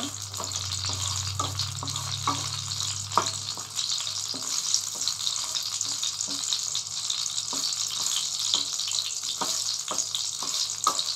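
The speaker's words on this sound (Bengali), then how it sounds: "শুকনো মরিচটা ভালো করে একটু ভেজে নেব।" Four or five dried red chillies fry in hot oil with a steady, bright crackling sizzle, close and continuous, with occasional clicks from stirring and a low hum early on, with no talking.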